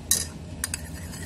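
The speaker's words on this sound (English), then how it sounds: "just stir these eggs together" Eggs being stirred together with a utensil for a carbonara, giving a few light clinks and scrapes against the bowl, close and fairly quiet, with no talking.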